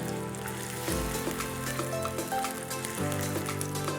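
Smoked meat frying in oil in a pan over a moderate flame, a steady close crackling sizzle that runs throughout with no talk.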